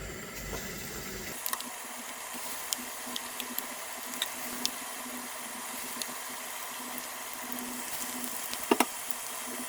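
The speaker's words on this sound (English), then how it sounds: "Using a spoon, dip the vadas in the hot oil." Vadas frying in hot oil, a faint, steady bubbling sizzle with scattered small pops and crackles, quiet and continuous.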